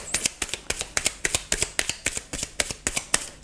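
Cards being shuffled for an astrology reading, a steady fast run of crisp slaps and flicks from the deck, close and fairly loud with no talking.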